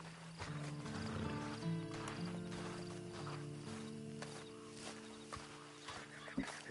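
Horse hooves clip-clop faintly in Red Dead Redemption 2, quiet and fairly close, with a possible whinny over a low, steady tonal background.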